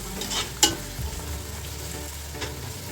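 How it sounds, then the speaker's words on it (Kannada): Biryani masala with chillies frying in a pan, a soft steady sizzle with a sharp scrape of a stirring spoon and a few lighter knocks, close by and alone. "ಇದು ಚೆನ್ನಾಗಿ ಫುಲ್ ಫ್ರೈ ಆಗಬೇಕು."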